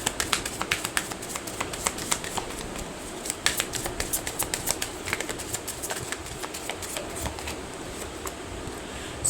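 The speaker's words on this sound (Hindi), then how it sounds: "चलिए पूरा एक और बार शफल कर लेते हैं।" A deck of tarot cards is shuffled by hand, producing quick, dry clicks and riffling snaps in uneven bursts, close and soft, with a faint hiss behind.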